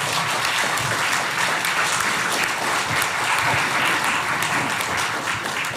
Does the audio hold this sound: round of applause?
yes